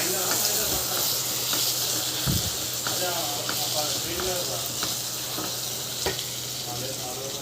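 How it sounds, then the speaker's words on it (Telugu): Eggplant pieces frying in hot oil with turmeric being stirred in: a steady, close sizzle with occasional scraping stirs and soft clanks, a person talking over it. "వంకాయలు మంచిగా ఫ్రై అయినాయి."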